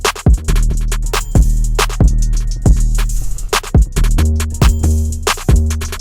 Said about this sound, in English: I have a kick that comes in. This kick just fit really well with the 808